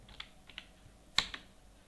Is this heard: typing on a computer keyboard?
yes